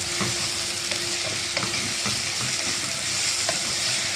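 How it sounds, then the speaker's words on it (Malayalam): Cloves, cinnamon pieces and bay leaves sautéing with onion and tomato in a pan for a country chicken curry, a loud continuous sizzle with soft stirring scrapes throughout, close up and with no voices. "ഒരു അഞ്ച് കഷ്ണം ഗ്രാമ്പൂ ഒരു രണ്ട് മൂന്ന് കഷ്ണം പട്ട ഒരു രണ്ട് ഭക്ഷണ ഇല ഇതും കൂടെ കൂട്ടി നമുക്ക് വഴറ്റിയെടുക്കാം"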